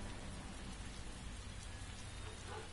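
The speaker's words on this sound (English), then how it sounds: "I have a cloud over me, just raining on me" Steady rain pattering on surfaces in the video game Heavy Rain, a dense, even hiss of drops falling close by with no break.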